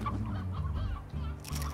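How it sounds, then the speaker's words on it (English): Chickens and roosters cluck and squawk in the video game Slime Rancher, a busy overlapping flock of short fowl calls with a low steady hum beneath and a brighter burst of noise near the end. "Bunch of chickens and roosters."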